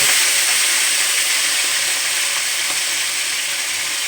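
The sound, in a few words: ginger garlic onion cumin coriander paste sizzling in pan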